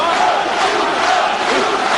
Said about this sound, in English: This is the home crowd now getting behind their man.